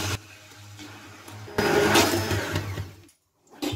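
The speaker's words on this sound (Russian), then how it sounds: "Все пробью погружным блендером и отправлю вариться." An immersion blender purees a sauce with garlic and Provençal herbs, whirring steadily for a few seconds, surging louder midway, then cutting out briefly before starting again.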